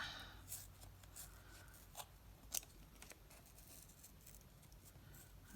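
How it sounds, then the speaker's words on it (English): Small fine scissors trim paper around the edge of a box for an altered book project, giving soft, quiet snips and rustles with a few sharper clicks, close and faint, with no talking. "I'm going to use little scissors so I can feel my way around it."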